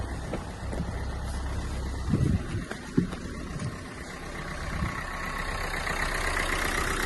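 A 2013 Renault Megane's engine idles with a steady, rough low rumble, with a few brief knocks and clunks near the start.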